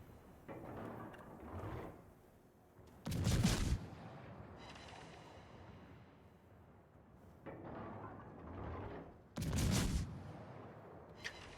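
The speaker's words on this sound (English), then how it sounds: "So we just keep shooting the Mogami here for 0 damage" Naval guns of a warship in World of Warships firing at the cruiser Mogami, two loud booming salvos several seconds apart, each rolling off into rumble, over quieter game ambience.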